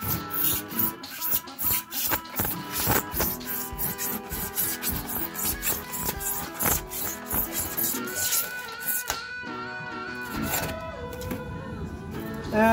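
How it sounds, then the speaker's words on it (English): A Sawzall reciprocating saw cuts at an angle through foam for model railroad scenery forms, giving a continuous rough rasping and scraping with rapid rhythmic strokes, close and fairly loud throughout, with no talking. "Cut it out, I'm just using this Sawzall, and I'm gonna cut this at an angle like so."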